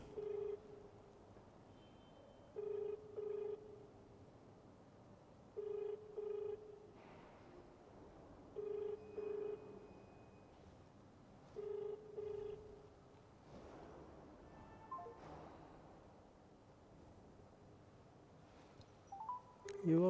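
A phone call rings unanswered, a repeating electronic ring tone in regular bursts about every three seconds, faint over a low background hum, with a brief burst of activity near the end.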